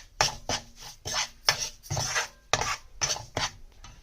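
Semolina being cooked and stirred in a pan for Sindhi milk barfi, about nine rhythmic scraping strokes of a spoon against the pan, close and fairly loud with short gaps, no speech.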